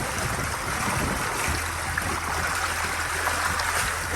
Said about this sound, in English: There's no other sound other than the moving water.